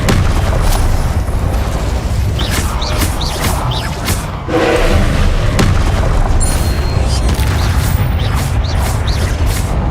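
Booming spell explosions and bursts from Hogwarts Legacy gameplay, Incendio and Confringo casts among them, pounding loudly over dense continuous game noise with repeated thumps.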